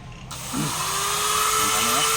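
A power drill starts up and runs steadily, boring into a metal part during an Eaton truck gearbox repair, with a constant whine close by and someone talking over it.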